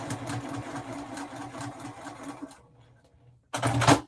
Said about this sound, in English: I'm just sewing on my lines